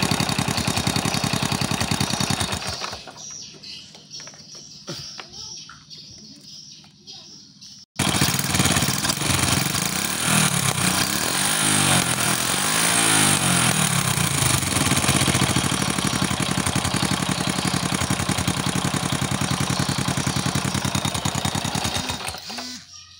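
A motorcycle engine with a spark plug that keeps dying idles after the throttle is reset to normal, running in a steady close putter that drops to a quieter sputter before picking back up for a long even idle.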